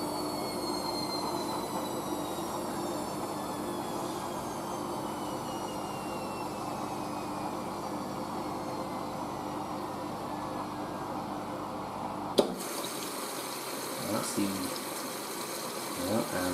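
A Hoover SIX AAA160 Whisper 1600 washing machine runs its rinse and spin cycle, giving a steady whirring drum hum with rising motor whine that stops abruptly with a clunk, leaving a quieter hiss and faint movement afterward.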